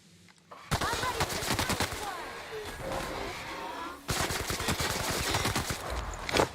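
Rapid gunfire bursts from The Outer Worlds video game, dense volleys of sharp shots crackling almost continuously with a brief gap midway before resuming loud and close.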